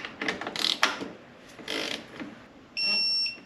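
Hand ratchet tightening valve cover bolts on a BMW N55 engine, heard as a few close, sharp ratcheting clicks in bursts, followed by a steady high-pitched tone.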